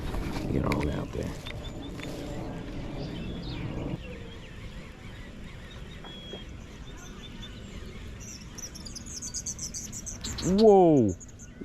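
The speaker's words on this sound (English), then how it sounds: "That blue herring and those little birds just going at it." Small birds squabbling with a blue heron near open water, faint scattered chirps building to a loud, harsh, descending squawk close by near the end, over soft outdoor background noise.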